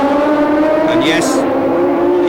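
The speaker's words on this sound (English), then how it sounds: "The car has the most fantastic sound to it." Laffite's Formula One car at the 1976 US West Grand Prix, a loud, high, steady engine whine with strong harmonic tones held throughout, a brief squeal rising over it midway, and a commentator talking over the sound.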